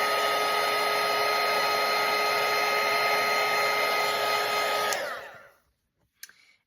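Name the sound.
hair dryer drying watercolour paint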